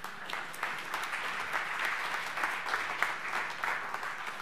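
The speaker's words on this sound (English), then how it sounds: "Big round of applause for these two." Conference audience applauding presenters walking on stage, a full, continuous round of clapping from a sizable crowd at steady loudness.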